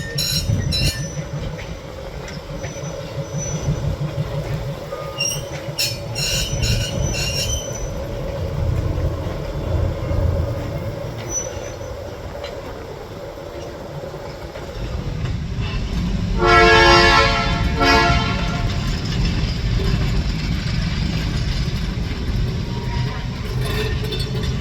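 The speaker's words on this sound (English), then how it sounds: "we catch A&MR 104 shuffling a tank car and NWP Caboose 19 down the main line" A&MR 104 locomotive shuffles a tank car and NWP Caboose 19 down a main line, a steady rumble of rolling rail cars with a horn blast near the middle, loud and sustained throughout.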